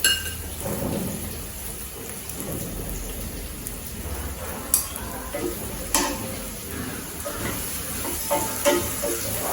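Onions sizzle and crackle steadily in a hot pan with salt and turmeric, with a few sharper clinks of a utensil stirring against the metal.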